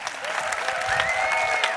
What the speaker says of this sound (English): clap your hands, stamp your feet, and welcome to the floor